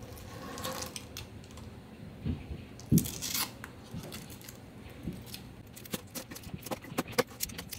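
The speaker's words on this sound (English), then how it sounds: "I'm just going to trim away the excess." A sharp blade trims excess Kydex from a holster, producing irregular close scraping, snipping and tearing sounds with a few sharper clicks, moderately loud and without speech.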